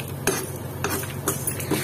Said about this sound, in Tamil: அது வரைக்கும் நம்ம வறுத்தா போறோம்.